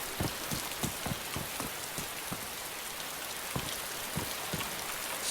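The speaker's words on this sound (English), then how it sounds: "So I'm totally soaked because it's raining." Steady rain falling in the video game DayZ, a dense even hiss with scattered close droplet taps, continuous and alone without any voices.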